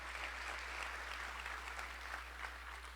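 Sustained audience applause at a city's 2022 State of the City address, a steady dense wash of clapping throughout, fairly distant and even in level, with no talking over it.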